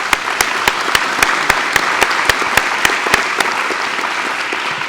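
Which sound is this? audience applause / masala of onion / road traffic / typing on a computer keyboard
audience applause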